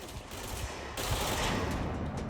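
Rapid, continuous gunfire from a close-quarters video game battle with snipers, a dense crackling volley that grows louder partway through and keeps going without pause.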